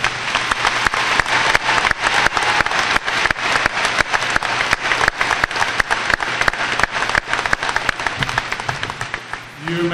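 Loud, sustained applause from a high school graduation audience, dense clapping filling the hall for about ten seconds before tapering at the end.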